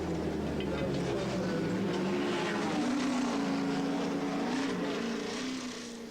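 Aston Martin Nimrod race car at the 1982 Le Mans race, a loud, continuous engine drone close by whose pitch climbs and holds as it drives on, with no voices.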